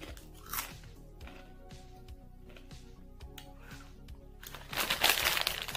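Crisp crunching and chewing of a salty Jamaican packaged snack, close and fairly quiet, with a louder burst of crunching near the end.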